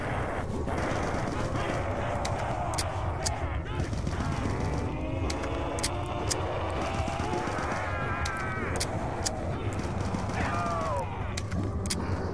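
Rapid gunfire from Black Ops II Zombies on the Origins map, with sharp repeated shots crackling over a dense, loud game soundscape of music and effects while a player talks throughout.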